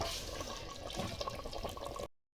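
A little water poured into a clay pot of mutton curry with fried potatoes, a short splashing pour lasting about two seconds, close and clear with no talk.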